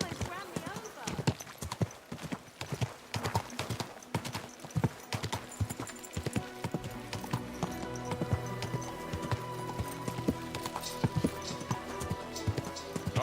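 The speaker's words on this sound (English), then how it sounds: "Don't you know how to keep your horse under control?" Horse hooves clip-clop at a fast gallop in the medieval game Kingdom Come Deliverance 2, loud and close in a quick drumming rhythm that then settles into busier ambient noise, with a whinny and voices talking nearby.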